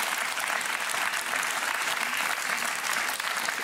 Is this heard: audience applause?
yes